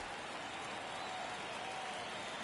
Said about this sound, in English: Crowd still piling in.